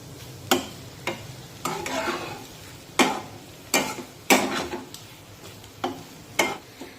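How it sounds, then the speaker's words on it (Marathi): Flat bean (ghevda) dry vegetable with coriander being sautéed in a pan: a low sizzle under a string of distinct spatula knocks and scrapes every half second or so, close and clear, with no speech. "आणि 2 मिनिटे पुन्हा एकदा ही भाजी परतून घेऊया, म्हणजे मग कोथिंबीर पण यामध्ये व्यवस्थित शिजली जाईल।"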